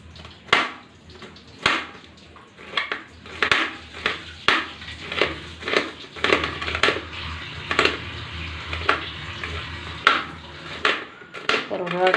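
A knife cuts bitter gourd (karela) for frying, making repeated sharp chops at a roughly even pace, close by, with a faint background hiss between strokes.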